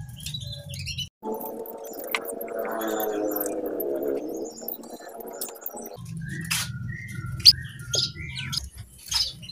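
Canary chirps and short tweets scattered over a steady low background hum, near and moderately loud, with a brief sharper squeak.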